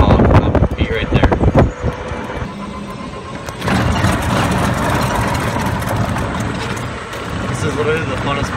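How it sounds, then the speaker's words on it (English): Golf cart driving, a continuous motor hum and road rumble with a few knocks early on, loud and close, with a person speaking over it. "I get to drive a golf cart to work and just to run and have fun"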